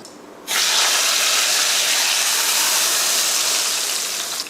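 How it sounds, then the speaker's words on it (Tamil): Hot spiced oil tempering with curry leaves poured into mutton curry in a Tamil kitchen: a sudden loud, close rush of hissing sizzle that holds steady for several seconds before easing slightly. "இந்த தாளிப்பை மட்டனில் ஊற்றிக்கலாம்"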